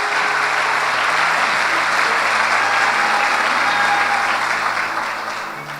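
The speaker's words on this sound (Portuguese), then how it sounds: "Dá um aplauso ao Senhor." Church congregation applauding during a worship service, a dense, steady wash of clapping that holds for several seconds before tapering off at the end, with no voice over it.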